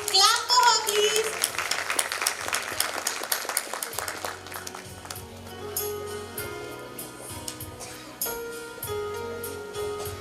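Audience applause at a school annual function, a steady wash of many hands clapping at moderate distance, with a voice and background music over it.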